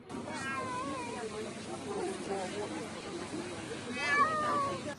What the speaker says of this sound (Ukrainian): З під завалів дістали й кішку.